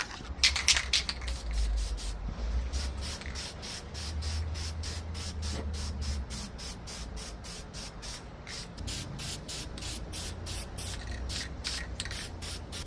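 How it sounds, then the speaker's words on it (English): Continuous hissing bursts of flat black spray paint onto car headlights, steady and close, with short pauses and a rapid rhythmic rattle late in the clip. "Here we got some flat black spray paint from Quick Color"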